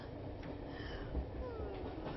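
Steady low rumble of a train car interior during a ride in the video game A Summer Story, a continuous muffled rolling drone with faint high squeals drifting through, no voices.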